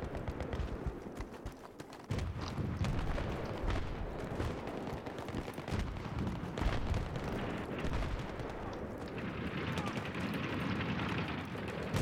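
Gunfire in a Battlefield video game, repeated sharp shots and distant booming blasts in an ongoing firefight, with players talking over the noise.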